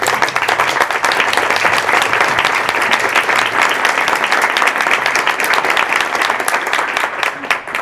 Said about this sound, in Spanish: dar la bienvenida al doctor Óscar Sac, a quien recibimos con un aplauso.